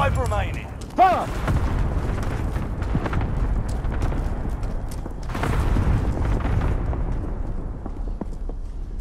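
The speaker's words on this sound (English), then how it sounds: "Bomb!" A bomb blast in the video game Call of Duty: Modern Warfare, a sudden heavy boom followed by a rumbling tail and further low booms amid continuous battle noise, with a voice speaking over it.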